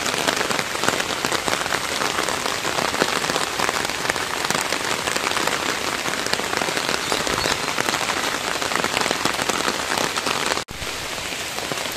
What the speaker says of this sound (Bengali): তো বৃষ্টির দিনেই, অনুষ্ঠানের দিনে বৃষ্টি